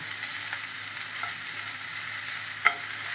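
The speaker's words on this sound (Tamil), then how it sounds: "இந்த பூ லைட்டாக கொஞ்சம் வதக்கிடணும்" Drumstick flowers being sautéed in a pan for an omelette give a steady, soft frying hiss with light stirring scrapes and one sharp utensil tap near the end, heard alone.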